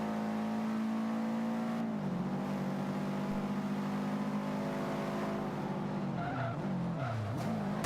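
A rally car driving off-road in Forza Motorsport 5, its engine droning loudly at a steady pitch that dips and wavers, with skidding tires and a rough, scrabbling surface noise toward the end, no talking.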